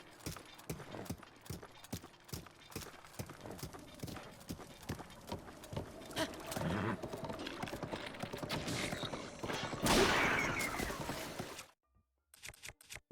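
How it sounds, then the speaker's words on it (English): Horse hooves clip-clop steadily in a video game with an elephant mech, a rhythmic run of close hoof strikes that grows busier and louder with game clatter before stopping abruptly near the end. "Wrong way, horse."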